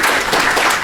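Applause from a conference audience, a brief burst of dense, loud, even clapping.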